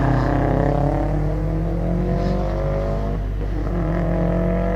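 A Subaru WRX charging up a lakeside hillclimb course, its engine note loud and close with shifting harmonic tones as it revs hard and changes gear, running continuously throughout.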